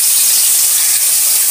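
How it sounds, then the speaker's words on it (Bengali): Prawns frying in hot oil in a heated wok, a steady loud hiss of sizzling fat with no breaks, heard alone without talk. "চিংড়ি মাছটা আমি ভাজছি"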